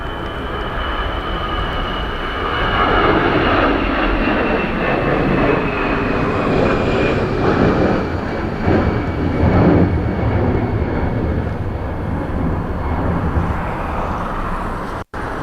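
A fixed-wing aircraft lands on runway 16 at Dublin Airport in gusty crosswind, its engines producing a loud, sustained roar with a long whine and rumble that swells and then holds steady.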